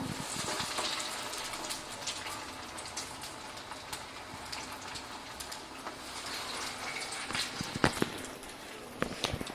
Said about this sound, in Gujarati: બધા પકોડા તેલમાં મુકાઈ જાય ત્યાર પછી આપણે ફ્લેમને થોડી સ્લો કરી દઈશું.